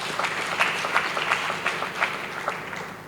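An audience at a church gathering applauds, a dense, lively patter of many hands clapping at steady strength throughout.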